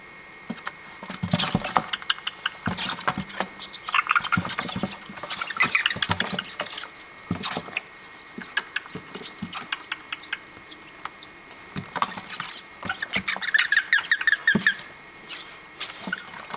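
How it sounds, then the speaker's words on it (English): Toads calling outdoors, a busy chorus of rapid chirping, trilling calls that come in bursts over a continuous wet patter, fairly close and steady throughout with no talking. "we're going to be real quiet and listen to the toads"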